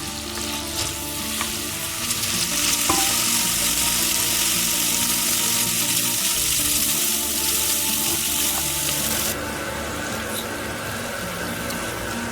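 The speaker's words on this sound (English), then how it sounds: "Saute the onion and the garlic in the oil, then add a generous tablespoon of tomato paste and saute it with the onion" Onion, garlic and tomato paste sauté in olive oil, a steady loud sizzle and crackle with stirring scrapes throughout, easing slightly in the last few seconds.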